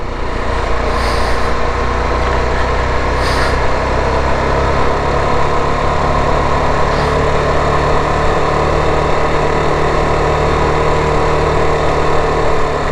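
A TVS Apache RR 310 motorcycle engine labours steadily uphill on a slippery high-altitude road on Khardung La at 17,582 ft, with a continuous close drone and wind rush and no breaks.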